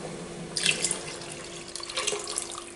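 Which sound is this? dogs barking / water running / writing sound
water running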